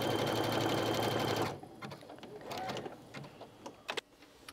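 A sewing machine stitches through pinned quilt layers in a steady, close whir for about a second and a half, then stops, leaving soft handling noises and small clicks.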